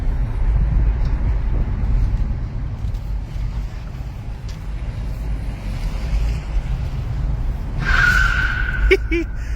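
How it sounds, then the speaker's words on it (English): A Nissan Leaf SV electric car driving under 20 mph gives a steady low motor whine beneath broad road and tire rumble, with a brief tonal pedestrian-alert chirp rising near the end. "Only noise you really hear is the whine of the motor, and since we're under 20 miles an hour, the speaker making noise outside the car to alert pedestrians"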